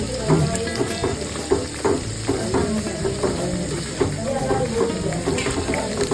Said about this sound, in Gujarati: એકદમ મસ્ત પૂરી તળાય છે